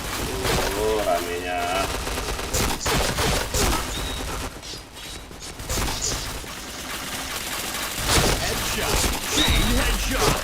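Gunfire in the PointBlank shooter game rattles in dense, repeated bursts throughout, loud and close, with short pauses between volleys and other game effects mixed in.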